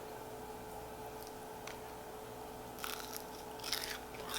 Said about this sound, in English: Then you get a crunch on the outside.